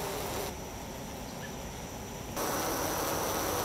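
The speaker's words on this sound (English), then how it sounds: "Here the bees are fanning the hive." A dense, steady buzzing hum of many honeybees fanning the hive, close and continuous, swelling slightly louder toward the end.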